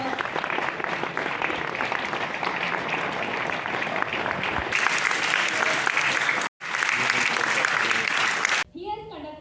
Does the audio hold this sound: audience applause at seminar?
yes